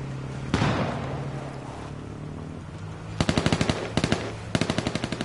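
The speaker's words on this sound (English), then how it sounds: "And they're shooting at me." Rapid bursts of automatic gunfire from a battle royale shooter game, H1Z1/PUBG on PS4: a single heavy shot, then three quick rattling volleys that pop in close succession over a steady low game hum.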